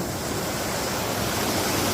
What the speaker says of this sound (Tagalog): Nakaka-relax yung ano, aligasgas ng tubig.